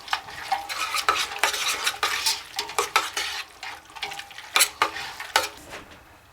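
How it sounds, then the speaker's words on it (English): A spoon stirs a beef mixture with mustard around a pan, giving close scraping and clinking strokes in an uneven rhythm, with light sizzling and utensil knocks between them and no voices. "And we're going to stir and mix and combine them."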